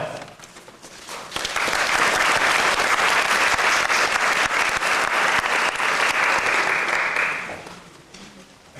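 A graduation ceremony audience breaks into loud, sustained applause that swells quickly, holds steady for several seconds, then tapers off.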